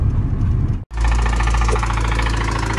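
A car engine with rod knock runs close and loud, a rough rhythmic knocking over a deep rumble, cut by a brief dropout before resuming steadily.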